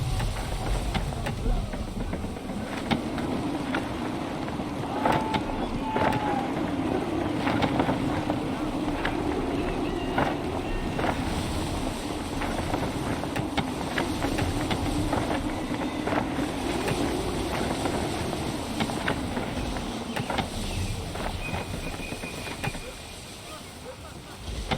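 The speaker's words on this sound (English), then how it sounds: "Wind looks to be shifting. Stay alert, Connor. Gusty winds can be difficult to manage." Gusty wind sweeps steadily around a sailing ship at sea in Assassin's Creed III, mixed with rushing water and creaking hull noise, a fairly quiet, even roar that fades slightly toward the end, with voices speaking over it.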